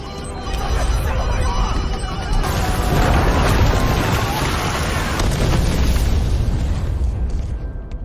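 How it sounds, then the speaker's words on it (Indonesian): A temple blows up in a loud, sustained explosion, with a steel room behind it bursting as well; deep booming rumble fills several seconds, swelling and churning without a clean break. "tidak hanya kuil saja yang meledak, namun ruangan besi yang tepat berada di belakang Andu dan Yujeng ikut meledak pula"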